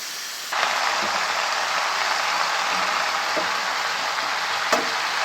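Vegetables for a pumpkin-leaf chorchori sizzle in a hot pan, a steady loud broadband hiss starting abruptly after a brief quiet moment and continuing unbroken with a few faint pops.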